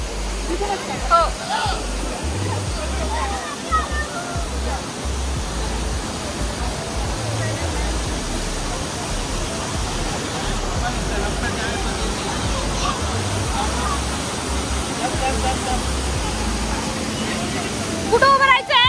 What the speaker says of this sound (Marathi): तुम्ही माझ्या बाजूला बघू शकता केवढा मोठा धबधबा आहे.